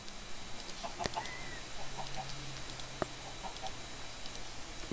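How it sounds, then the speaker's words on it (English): Minecraft chickens clucking in short, soft repeated bursts amid ambient game noise, a few sharp clicks between them, fairly near. "You chickens should lay eggs."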